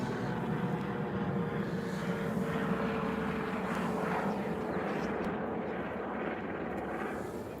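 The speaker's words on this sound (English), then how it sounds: "Hear a helicopter up there." A helicopter flying overhead above woods, a continuous low droning engine and rotor rumble that holds steady at a moderate level for several seconds, with no talk over it.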